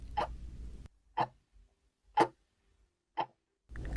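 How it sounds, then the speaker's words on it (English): A clock ticks in a quiet room, four crisp, evenly spaced clicks about one second apart, standing out clearly against near silence. "Maybe the ticking of a clock"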